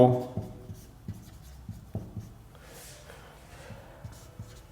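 Chalk or marker strokes on a classroom board, a light scratchy tapping rhythm of short strokes, while a teacher talks over them throughout.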